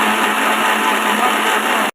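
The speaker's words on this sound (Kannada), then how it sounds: "ಮಿಕ್ಸಿ ಜಾರ್ಗೆ ಹಾಕಿಬಿಟ್ಟು ನುಣ್ಣಗೆ" Mixer grinder whirring steadily as it grinds fried masala with grated coconut and coriander leaves, a loud, continuous motor drone that cuts off abruptly at the end.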